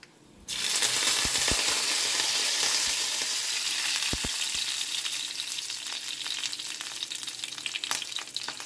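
Garlic fries in hot oil for a dal tempering, bursting into a loud, steady sizzle that continues throughout, with occasional clinks and scrapes of stirring close by.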